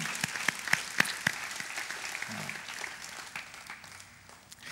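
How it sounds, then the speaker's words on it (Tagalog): A congregation at a church prayer gathering applauds, steady moderate clapping from many hands filling the room, with a few sharper nearby claps early on that fade into a softer, diminishing patter. "Pwedeng pumalakpak yung mga taong interesado sa pananalangin."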